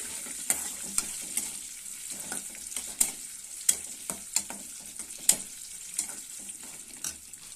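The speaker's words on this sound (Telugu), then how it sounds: "తాలింపులు ఎండుమిర్చి పచ్చిమిర్చి పల్లీలు తాలింపులు ఇవన్నీ బాగా వేయించుకోవాలి మాడిపోకుండా వేయించుకోవాలి" Dried red chillies, green chillies and peanuts fry in hot oil as a tempering, a steady sizzle punctuated by frequent sharp stirring clacks and scrapes of the spoon against the pan.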